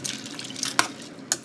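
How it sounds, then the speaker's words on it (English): Water is poured into a pan of black-eyed peas with andouille sausage, making a short, close splashing and trickling sound with a few distinct drips. "I'm going to get a little more water and add to it and let them come to a boil"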